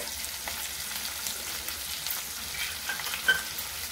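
Sliced medium onions sautéing in a pan for a sandage vegetable dish, a continuous soft crackling sizzle with occasional light stirring clinks, heard alone without talk.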